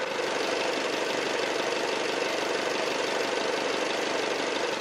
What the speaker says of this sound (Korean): 제가 엔진 사운드 한번 들려드리도록 할게요